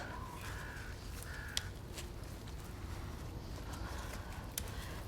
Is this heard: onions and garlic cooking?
no